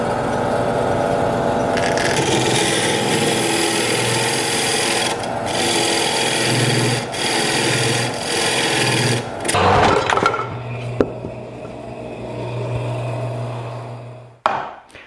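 Miniature turning tools cut into the end grain inside a red oak cone spinning on a lathe, a steady close scraping and rasping with a low motor hum, then a brief stop and a sharp knock near the end.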